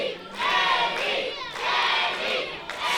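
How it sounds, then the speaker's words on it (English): Wrestling crowd at a live show in Newcastle chanting a wrestler's name, a loud, dense wall of voices swelling in rhythmic waves close around. "Still the crowd chanting Henry's name."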